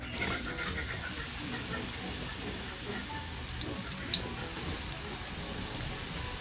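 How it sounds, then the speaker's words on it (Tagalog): Cubes of purple sweet potato fry in hot oil, giving a steady, even sizzling hiss that runs unbroken and fairly quiet throughout. "At ang luto ko po sa kamote ay gagawin kong kamote cube. Iprito ko na po ito."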